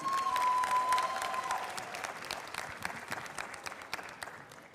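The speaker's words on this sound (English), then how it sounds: "Give them a round of applause one more time" Audience applause at a beauty pageant preliminary after a swimsuit segment, a crowd clapping at moderate distance that starts strong and gradually thins, with a faint high tone early on.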